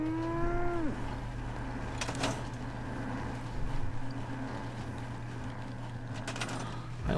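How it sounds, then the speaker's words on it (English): A cow in the video game Fallout 4 gives one short, low moo that slides downward and fades within a second, then gives way to a steady low hum and faint ambient game noise. "and we have that weird cow sound"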